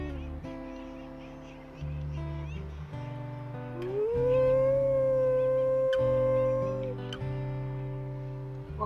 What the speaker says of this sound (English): Seems like Renegade 73 has a morning howl.